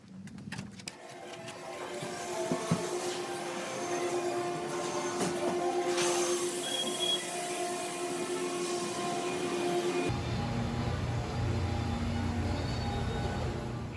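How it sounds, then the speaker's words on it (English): Single station plastic thermoforming machine running in a factory, a steady loud mechanical drone with tonal hums and clanks throughout, shifting to a denser rushing roar partway through, with no talking. "Here we are at one of our single station thermoforming machines."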